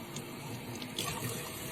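Water pours and splashes steadily, like a running tap into a sink, with a mid-level wash of sound that swells slightly partway through and no voices.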